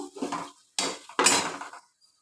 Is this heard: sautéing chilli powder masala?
yes